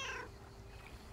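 A single short cat meow opens the moment in the lakeside game Lake, faint and brief, followed by quiet ambience.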